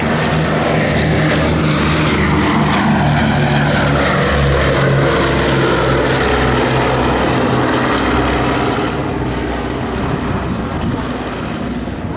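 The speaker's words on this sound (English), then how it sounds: "On the roll now then, B-17G Flying Fortress, Sally B." Propeller engines of a B-17G Flying Fortress bomber roar loud and steady through its takeoff roll at an air show, a continuous dense drone with low rumble and some wind buffeting, no talk heard.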